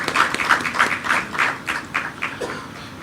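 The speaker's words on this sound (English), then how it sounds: "Perhaps we want to acknowledge the members on the high table with a clap." A small audience at a parliamentary meeting clapping to acknowledge the high table, a rhythmic run of distinct, fairly close claps that slows and thins out toward the end.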